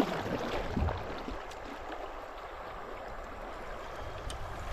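River water on the braided Bonnet Plume River rushes and gurgles steadily around a paddled boat, with a brief splash of a paddle stroke near the start and a continuous broadband flow behind it.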